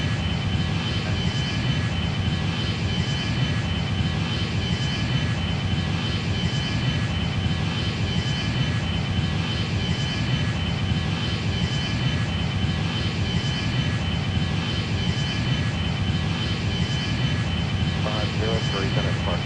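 A Boeing 737 taxiing in the flight game Airline Commander gives off a constant, loud jet engine drone. Radio-style voices talk over the steady hum throughout.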